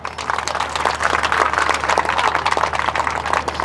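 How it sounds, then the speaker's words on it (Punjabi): Audience applause at a village gathering during the Teeyan festival in Punjab, a dense steady patter of many hands clapping continuously throughout, fairly loud and close with no pause. "ਆਪਣੇ ਲਈ ਤਾੜੀ ਮਾਰ ਦਿਓ"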